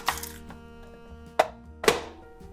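Knife chopping an onion on a cutting board in a home kitchen, three sharp separate chops with quiet pauses between them, close and clear with no talking.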